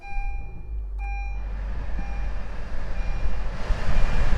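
A 2020 Honda Fit EX-L cabin as the push-button start fires the engine: a short chime and click, then a steady low idle rumble with a fan hum that builds slightly, no talking.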